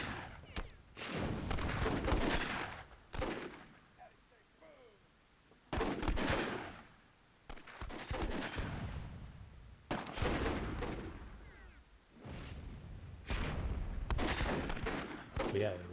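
Cannon blasts and gunfire echo through a WWII-themed multiplayer match of Myth II Soulblighter, arriving as repeated heavy booms and volleys in bursts with short quieter gaps between them.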